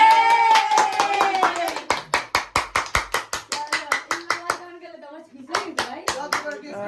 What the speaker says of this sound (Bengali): বার্থডে গার্ল সবাই মিলে জোরে হাততালি